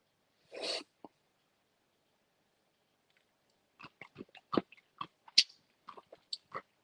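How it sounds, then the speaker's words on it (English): Crinkle-cut gherkin pickles being chewed close up in a quiet room: one short crunchy bite, a pause, then a run of irregular wet crunches and smacks. "These are just crinkle cut gherkins. Let's do a taste test."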